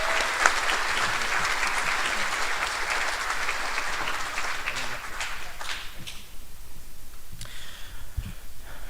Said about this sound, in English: So one more round of applause for these guys.